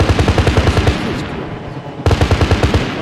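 Rapid machine gun fire in ArmA 3, loud close bursts of evenly spaced shots, a pause of about a second, then another burst resuming.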